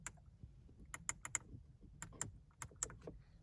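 Climate control buttons in a 2021 Audi A3 Sportback S Line being pressed, giving a series of sharp, close clicks in an uneven rhythm over a quiet cabin with no talking.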